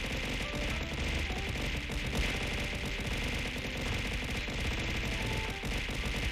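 Rapid, continuous bursts of projectile fire from the video game Dark Cloud 2, a dense crackling barrage that runs steadily throughout at moderate level with no pauses.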